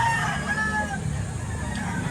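Rooster crowing and hens clucking among fowl offered for sale, with the crow's drawn-out tones standing over a steady low background rumble that could be a distant engine.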